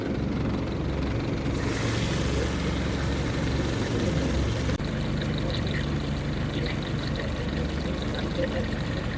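The engine of a 1953 Lyman Islander boat idles with a steady low rumble, loud and close, its pitch shifting slightly partway through.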